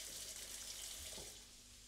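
Tap water running into a kitchen sink while hands are washed after handling raw meat: a faint, steady hiss of flowing water with slight splashing changes, alone and without speech.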